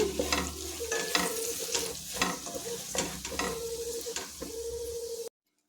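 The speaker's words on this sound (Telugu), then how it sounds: "వెల్లుల్లి కారము బాగా కలిపేసుకోవాలి బెండకాయలు అంతటికి పట్టుకోవాలండి" Okra stir-fried in a pan with garlic and chili powder: a soft sizzle under repeated scraping and tossing strokes of a spatula, several distinct stirs before the sound cuts off abruptly.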